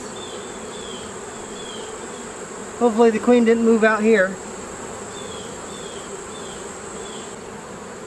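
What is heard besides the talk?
honey bees buzzing around a hive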